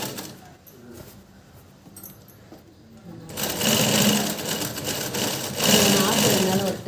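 A sewing machine stitching a blouse lining: quiet intermittent running at first, then a loud continuous rattling hum close by for the last few seconds, with a voice talking over the start.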